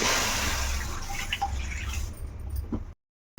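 Water is poured steadily into a pot that already holds leftover milk, a continuous close splashing rush that ends suddenly after about three seconds, with no talk.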